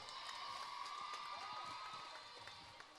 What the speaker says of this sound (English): A round of applause for San Juan Girls Government School.